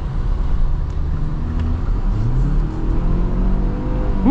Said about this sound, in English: wasn't trying to get an acceleration there, but I guess we kind of did because I had to get into the throttle a little bit deeper just to get this up and moving